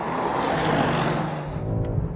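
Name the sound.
BMW M5 F90 and Mercedes E63s AMG drag racing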